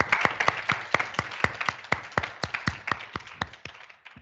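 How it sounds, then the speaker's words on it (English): Audience applause for a guest speaker at a university economics session, fairly close and brisk clapping with distinct individual claps that taper off near the end. "I think we can really give a round of applause."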